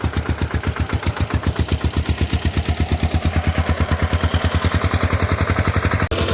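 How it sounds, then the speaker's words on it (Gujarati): A homemade mini tractor built from a desi jugaad engine chugs in fast, evenly spaced thumps, loud and close, with a light metallic clatter and a brief knock near the end. "ફૂલ એન્જિન તાકાતવાળું છે મિત્રો."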